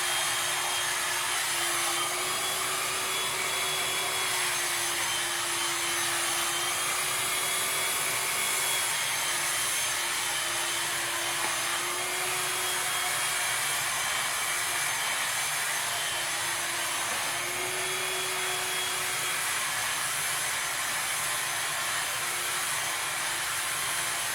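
A hair dryer blow-drying long hair during a layered haircut runs continuously and loudly for the entire stretch. Its steady whirring hiss carries a faint, wavering motor tone, and no one talks.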